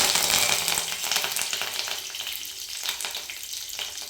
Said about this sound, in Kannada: ಇವಾಗ ಅದು ಚಟಪಟ ಆದಮೇಲೆ ಸ್ವಲ್ಪ ನಾನು ಒಂದು 5 ರಿಂದ 6 ಕರಿಬೇವು ಎಲೆ ತಗೊಂಡಿದ್ದೀನಿ